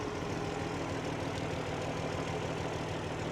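A County Super 6 tractor, model 1124, with a four-furrow plough attached at a ploughing match, its engine idling with a steady low rumble and faint knocking, moderately distant, no talk over it.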